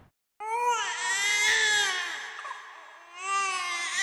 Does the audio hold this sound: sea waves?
no